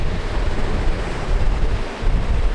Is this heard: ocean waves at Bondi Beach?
yes